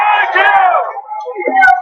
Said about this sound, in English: They're cheering back here.